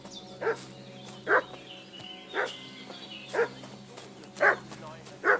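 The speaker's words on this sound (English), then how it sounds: "What's that dog making such a fuss about?" Dog barking in the video game Kingdom Come Deliverance 2, six loud evenly spaced barks about a second apart over a low steady background hum.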